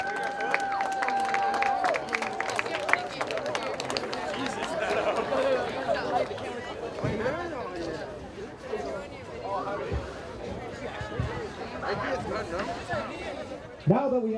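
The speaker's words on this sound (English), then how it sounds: "please give a round of applause for our senior athletes and extracurricular" A crowd at a high school football senior night applauds senior athletes and extracurricular participants, scattered clapping and cheering mixed with loud crowd chatter and an announcer's voice in an open stadium.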